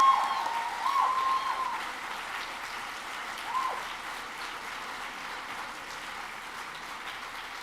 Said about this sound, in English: Please join me again in giving him another round of applause.